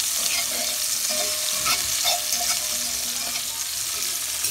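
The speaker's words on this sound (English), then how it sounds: "Give it a little stir." Chopped onion and garlic sizzling in a pot on the stove while a utensil stirs them, a steady close frying hiss with soft scraping and clinking touches, no talk.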